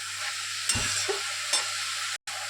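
Red amaranth greens with turmeric being stirred in a pan, a steady sizzling hiss with a couple of brief spatula knocks and scrapes, close by, no speech.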